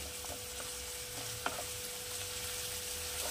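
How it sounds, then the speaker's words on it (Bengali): Chopped onion fries in a pan with a quiet, even sizzle, broken by a faint spatula scrape or two, plus a low steady hum in the background. "আমি পেঁয়াজটাকে একটু লাল করে ভেজে নেব"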